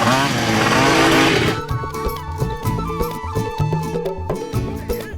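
A cartoon vehicle's engine revving as the accelerator is pushed: a loud, rough buzzing roar that holds steady and then breaks into choppy, sputtering pulses, with no talk over it.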